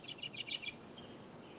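Birds chirp in quick, bright repeated notes, a short burst of several tweets followed by a sustained trilling call, fairly close and alone.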